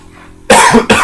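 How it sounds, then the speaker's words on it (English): Two sharp coughs in quick succession, loud and close, after a moment of quiet room tone. "sorry, I have a bit of a cough"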